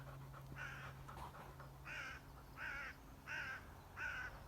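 Crow cawing outdoors near a woodland camp, five harsh calls in an even rhythm, fairly distant and faint against a quiet background.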